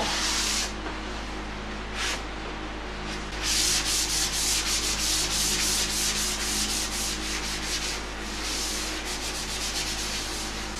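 Sanding catalyzed vinyl sealer on a birch vanity, a close, steady hissing rub in long strokes with brief pauses, loud and continuous with no talk.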